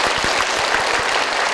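A game show studio audience claps loudly and continuously after a correct answer, a dense burst of applause with no talking over it.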